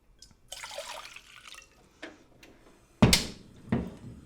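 Water pours into a pot in a home kitchen for a vegan cucumber kimchi recipe, a short splashing rush, followed by a few separate clunks and knocks, moderately close and fairly quiet.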